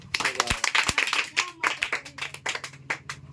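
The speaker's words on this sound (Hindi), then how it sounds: "जोरदार तालियां" Children in a classroom clap together in a quick, uneven rhythm of sharp claps over about three seconds, with young voices talking and calling out under the clapping.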